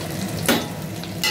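Cashews and raisins frying in ghee with cauliflower for veg fried rice, a close crackling sizzle with a brief louder burst of stirring and pan scraping partway through and another at the end.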